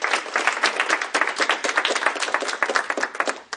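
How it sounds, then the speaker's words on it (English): An event audience breaking into applause for a volunteer, dense steady clapping from many hands at close-to-mid distance, holding strong before tapering off at the end. "give a round of applause for her,"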